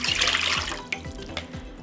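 Water pours steadily into a vessel while a pickling brine is prepared in a home kitchen, a close, continuous splashing stream with a few small bubbling accents.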